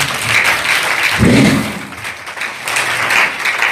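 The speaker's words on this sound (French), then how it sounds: "Est-ce que tu peux acclamer le Seigneur?" A church congregation applauds and cheers together, a steady wash of clapping with a brief swell of voices partway through, loud and close throughout.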